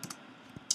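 A few separate keystrokes on a computer keyboard, sparse taps spaced apart with a louder final click, close and clear against a quiet room.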